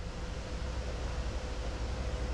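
Steady, low rushing wind on the Southern Bug river buffets the microphone with a constant broadband roar and no voices.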